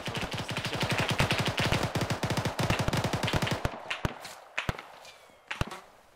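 Automatic gunfire in the military shooter Arma 3, a long rapid burst of sharp close shots followed by several scattered single shots, with no talking.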